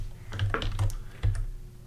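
A few computer keyboard keystrokes, close and quiet, a handful of distinct clicks in quick succession, alone.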